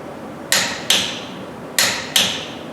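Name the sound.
torque wrench clicking while tightening wheel lug nuts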